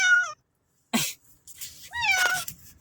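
A cat out on a bike ride by the sea gives short, close meows, with a breathy sneeze-like burst between them.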